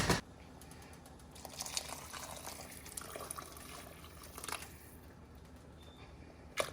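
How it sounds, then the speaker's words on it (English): Hot boiling water pours steadily into a pot with a soft, continuous splashing rush, swelling briefly a couple of times; no voices. "That's hot boiling water."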